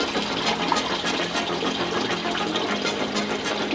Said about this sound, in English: Flush out that coolant.